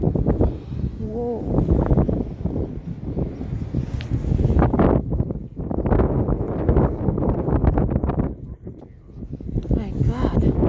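Strong wind buffets the microphone in continuous loud gusts and rumbles, with a voice exclaiming and talking over it throughout.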